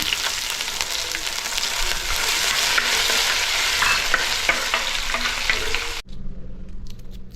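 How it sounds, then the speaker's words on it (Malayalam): Crushed ginger and garlic dropped into hot coconut oil with browned coconut, frying with a loud, bright, continuous sizzle and stirring up close, quieting sharply near the end. "വെളിച്ചെണ്ണ നന്നായിട്ട് ചൂടായിട്ടുണ്ട് അതിലേക്ക് ആവശ്യത്തിന് കൊത്തിട്ട് കൊടുക്കുക തേങ്ങ ബ്രൗൺ കളർ ആയതുകൊണ്ട് അതിലേക്ക് ഞാൻ ഇഞ്ചി വെളുത്തുള്ളി ചതച്ചത് ഇട്ട് കൊടുക്കാം"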